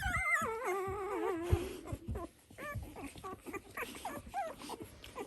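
Six-day-old Dalmatian puppies whimper and squeal in high, wavering cries, close by, with a cluster of overlapping whines at first followed by scattered short yelps and snuffles.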